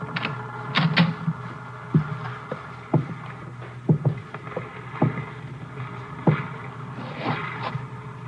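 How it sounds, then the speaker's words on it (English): Water laps and knocks against a small dinghy moored to a ship's stern rail, in irregular soft thumps with faint creaks of wood, close by and without talk. "There's a dinghy moored to the stern rail."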